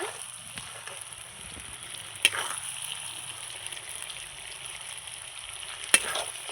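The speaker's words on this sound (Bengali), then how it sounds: "মাংস আমি অনেকক্ষণ ধরেই কষাচ্ছি" Mutton curry sautéing and stirred in a pan, with a steady close sizzle throughout and a couple of sharp spoon scrapes against the pan, no talk.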